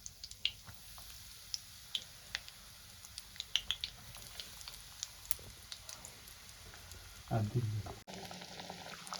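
Fish fingers fry in hot oil in a home kitchen, giving a soft steady sizzle with scattered faint pops and crackles, swelling briefly near the end, with no talking.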